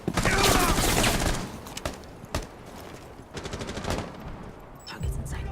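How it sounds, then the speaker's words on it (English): Rapid shotgun blasts in the tactical shooter Rainbow Six Siege: a dense burst of loud, close shots in the first second, then several sharp separate reports and scattered gunfire until the end. "Shotgun going live."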